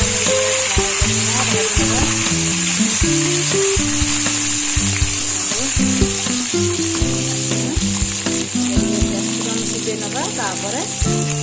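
Chopped garlic and ginger fry in a pan for restaurant-style chilli cauliflower, a loud, constant sizzle filling the background while a voice carries on over it.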